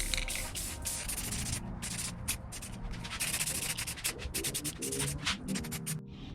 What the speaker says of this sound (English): So now we can hit it with our satin black like we used before.